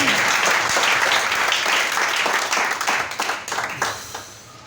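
A church congregation at a Sunday morning service applauds and cheers in praise of Jesus, sustained dense clapping and voices that stay loud before thinning into scattered claps toward the end.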